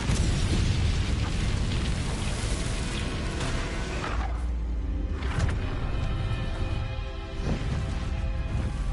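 An Incendio fire spell blasts in the Hogwarts Legacy video game: a loud, sustained roaring rush of flame with whooshing surges that keeps going for several seconds.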